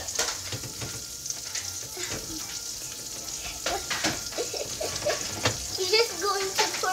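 A French toast mixture is stirred and worked in a home kitchen, with scraping, clinking and wet sloshing sounds up close, while people talk quietly in the background.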